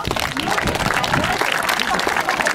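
A crowd at a falconry show claps steadily and loudly, dense continuous applause filling the whole moment.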